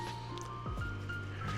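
Wet squelching as water is squeezed out of salted napa cabbage by hand for kimchi: soft squishing and dripping up close, quiet and continuous, with no voices.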